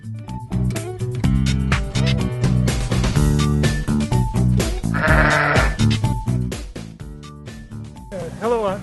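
Sheep bleat repeatedly on a sheep farm during a Sunday shearing day open house. The calls are loud, dense and overlapping against a busy, noisy background.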